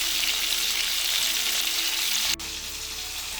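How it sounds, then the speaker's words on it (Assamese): Fish sizzles steadily in hot oil for a traditional Assamese turmeric fish curry, a close, even hiss with a brief sharp click near the end and no talking. "এয়া আমাৰ মাছখিনি ফ্ৰাই হৈ আছে।"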